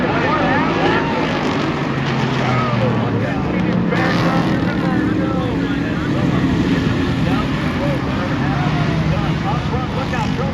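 Street stock race cars racing at Monadnock Speedway produce a continuous, loud engine roar from several cars at once, with an announcer talking over the noise.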